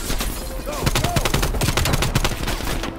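Rapid, dense gunfire in Call of Duty Black Ops Cold War: continuous automatic bursts crackle loudly and fill the whole moment, with overlapping shots and game effects.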